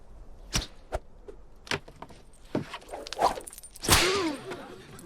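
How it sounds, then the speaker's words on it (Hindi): Whip lashes in a prison flogging scene from the film RRR: several sharp, isolated cracks spaced about a second apart, with a louder lash and pained cry near the end, no talk. "भीम के बेड़ियों की आवाज, और फिर कोड़े मारने की आवाज"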